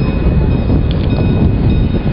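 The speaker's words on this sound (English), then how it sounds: "Welcome to the Maglev." Steady low rumble of a maglev train ride, a continuous broadband roar with faint higher whines, loud and close throughout, with no voices.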